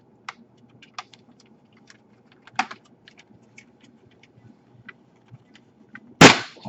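Plastic top screen bezel being pried off an HP 15-r263dx laptop: a run of small sharp clicks and taps close by, then a louder crackling snap near the end as the trim pops free.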